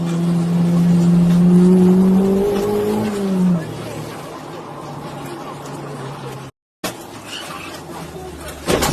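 Cars race along a mountain pass street, an engine droning and revving loudly with a falling pitch as it passes, followed by rougher road and wind noise and a brief dropout.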